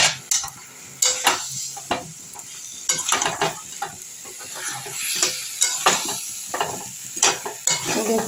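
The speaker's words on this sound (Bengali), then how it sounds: "এবার আমি আলুগুলো দিয়ে একটু কষে জল ঢেলে দেবো।" Potatoes for Bengali alur dum fry and sizzle in a pan while a spoon scrapes and clatters against the metal in repeated strokes, close up and alone, with a steady hiss underneath.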